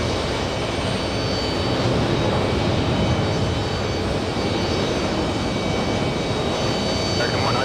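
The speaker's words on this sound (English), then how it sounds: "We have the Polish 787 racing down the runway." A Polish Boeing 787 bound for Warsaw takes off from JFK, its jet engines a continuous broadband roar heard from a distance, steady and loud throughout with no pauses.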